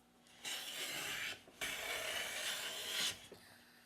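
Two long strokes of a WoodRiver V3 hand plane take shavings off a wooden board, each a close, smooth hissing swish separated by a brief pause.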